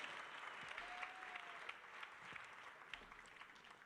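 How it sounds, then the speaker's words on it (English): An audience at a family planning conference plenary applauds steadily, a dense wash of clapping that fills the room and fades slightly toward the end. "A round of applause for the ladies."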